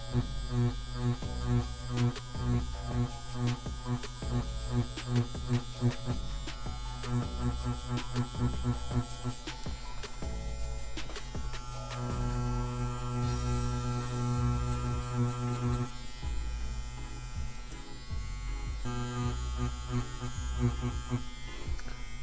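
A CNC CW2 wireless tattoo machine buzzes steadily and close up throughout, a dense motor drone with fluctuating intensity as it runs for traditional pepper shading.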